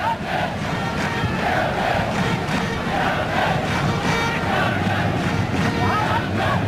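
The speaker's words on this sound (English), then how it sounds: "Chelsea have got many supporters in the crowd." A large stadium crowd roars and chants steadily at a football match between a Malaysian XI and Chelsea, a loud, continuous wash of voices with no break, with commentary faintly mixed in.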